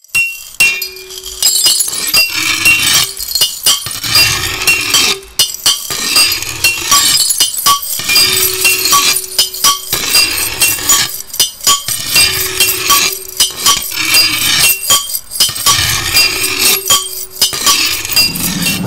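Small colored glass pieces clink and chink repeatedly as a glassblower handles them in a workshop, with crisp close clatters recurring over a steady low hum.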